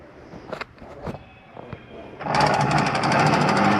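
Stabilizer jacks on a 2018 Forest River Viking 1706 XLS camper being cranked: a few clunks and taps give way to a steady, loud, rapid mechanical ratcheting whir close by, with no voices.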